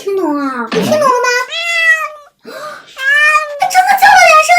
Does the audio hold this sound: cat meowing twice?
yes